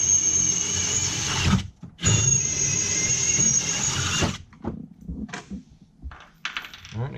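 A drill bores 5/16 bolt holes through metal while mounting a Ryder Rack BOLT, with two loud, close, squealing drilling bursts separated by a brief stop, followed by quieter clicks and rattles.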